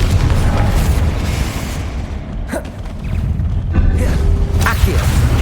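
Confringo spell explosions in the Hogwarts Legacy video game, heavy booming bursts with crackling debris that recur over a dense, noisy game soundscape, with no talk.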